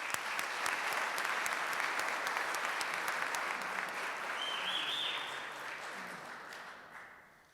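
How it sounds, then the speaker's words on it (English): Audience applause at a Rotary Club meeting honoring the Rotarian of the Year with the Wally Emmerling Award, a steady, full room of clapping that holds evenly and then gradually fades out toward the end. "One more round of applause."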